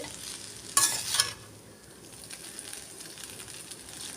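Vegetable noodles are stir-fried in a restaurant-style pan, with a short burst of loud tossing and sizzle near the start, then a softer, steady frying hiss.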